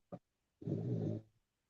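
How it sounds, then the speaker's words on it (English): A sleeping dog snores softly: one short snort, then a longer rumbling breath, both quiet and close against near silence. "My dogs are snoring."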